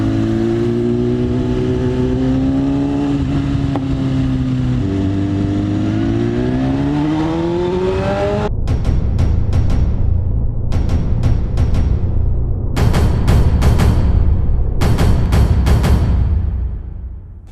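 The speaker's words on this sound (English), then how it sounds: "Enjoy the downshift of S1000 RR." A BMW S1000 RR superbike on an early-morning road holds a rising, varying engine note, then drops through a series of sharp downshifts: repeated loud bursts of revs with crackling blips, close and strong, no talk.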